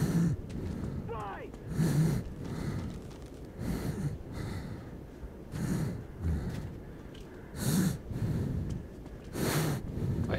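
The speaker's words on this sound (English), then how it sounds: "I hear him breathing really hard." Heavy rhythmic breathing from a character in the video game Metro 2033, with loud, regular rasping breaths recurring roughly every two seconds in the near foreground.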